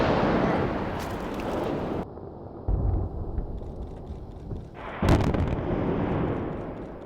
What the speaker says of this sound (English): it is drilled, filled with explosives,